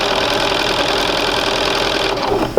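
A sewing machine stitching fabric for a quilt sampler, a steady mid-pitched motor whir that runs continuously and slows near the end, with no talk over it.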